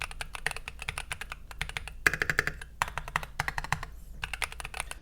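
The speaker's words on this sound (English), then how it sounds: "this is the best sounding keyboard that I've ever heard" Akko MOD007 v2 mechanical keyboard with U4T switches and Keychron PBT keycaps being typed on, crisp close-up keystrokes in quick bursts and short runs separated by brief pauses, alone without speech.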